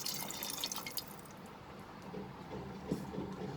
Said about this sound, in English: we will add 1 cup of water